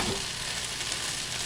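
Philly cheese steak sloppy joe filling of meat sizzles steadily in a small frying pan, a dense continuous hiss and crackle heard close up.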